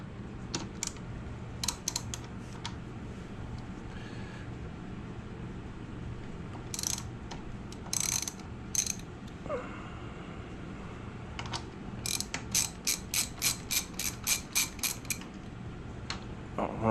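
Brake caliper bolts on a 2008 Honda CBR 1000RR are worked loose with a ratchet, giving close, quick runs of sharp clicking over a steady background hum, with occasional creaks and knocks.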